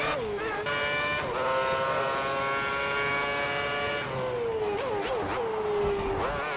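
A Formula One race car on a qualifying lap at the 2010 Canadian Grand Prix in Montreal, in a racing game: a loud, high engine whine climbing through the gears, with sharp downshifts and a drop in pitch as it slows.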